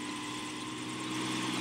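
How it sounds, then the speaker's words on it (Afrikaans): A cartoon helicopter flies overhead with a loud, steady engine drone and rotor whir that holds for the whole short stretch, swelling slightly toward the end. "Ja, maar onthou, dis 'n helikopter, Heksie, nie 'n meeliepomp."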